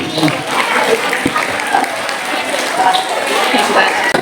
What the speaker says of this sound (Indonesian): Tepuk tangannya untuk kedua kawan hebat ini